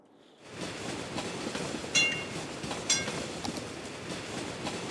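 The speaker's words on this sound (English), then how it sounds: "Stupid tram sound." A tram passing in the city-building game Cities: Skylines, a steady broadband rumble with wheel clatter and two brief bright squeals, continuous throughout with no talking.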